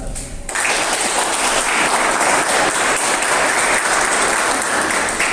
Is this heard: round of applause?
yes